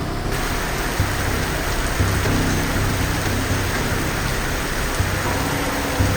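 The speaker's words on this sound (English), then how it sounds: "It is an absolute tropical downpour in this forest and everywhere" Heavy tropical downpour in a Malaysian forest, a dense, steady roar of rain drumming on surfaces close by, with low rumbles underneath and no voices throughout.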